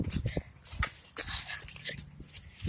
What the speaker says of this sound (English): Oh no, we have to follow the dangerous dog.